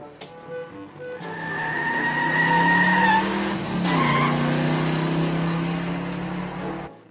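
A toy Lightning McQueen car plays a loud electronic racing sound: an engine whine followed by a long squealing skid, with a brief pitch drop midway, steady and alone for several seconds.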